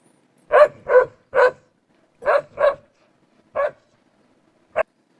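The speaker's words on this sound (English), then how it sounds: "And we got our dog bark." AI-generated dog barking effect: seven sharp barks in uneven bursts, clear and close with silence between, ending in a short final yip.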